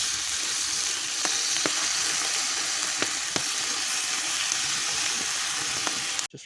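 Thick bacon frying in a pan at a woodland campsite, a continuous close sizzle and crackle with occasional sharp pops, no voices.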